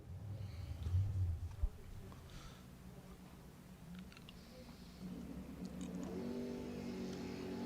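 Drag racing cars running at WWT Raceway in a pro outlaw class, engines droning at a distance, rising louder toward the end with a brief sharp thump early on.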